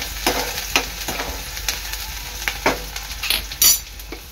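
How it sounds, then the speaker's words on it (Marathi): Onion and curry leaves frying in hot oil, a steady sizzle broken by irregular clicks and scrapes of stirring in the pan. "तेल चांगलं गरम झालेलं आहे। आता ह्यामध्ये टाकते मी कढीपत्ता आणि आपला कांदा।"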